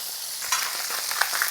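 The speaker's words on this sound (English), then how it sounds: "Just fry that all together" Fish frying in butter in a pan with chopped fennel and lemons, a steady close hiss of sizzling with a few brief crackles and pops.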